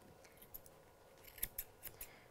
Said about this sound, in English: I've angled my scissors so they're going to be tighter on the bit of hair that's going to hang on the floor